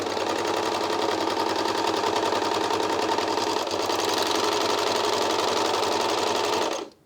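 Janome 2000D serger overlocker stitching, a loud, steady, fast mechanical whir and rattle close up that runs evenly for about seven seconds and then stops abruptly.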